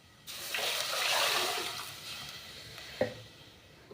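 A kitchen tap runs water into a pot for thin dhaba-style khichdi, a steady rushing stream that swells and fades over a few seconds, ending with a single knock of the vessel.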